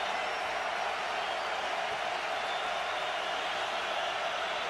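Steady broadband roar of a college football stadium crowd at Michigan, the student section building noise ahead of a third down; a continuous, dense wash of many voices with no distinct breaks.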